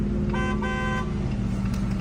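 Two sustained car horn blasts at a red light, close and loud, sounding over a steady rumble of idling traffic.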